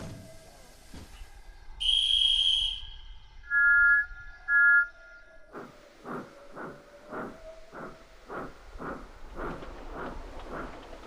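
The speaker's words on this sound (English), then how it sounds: "Once the train was safely on the move" A train gets under way with a steady rhythm of chugging bursts, preceded by a few bright whistle-like tones and a hissing release.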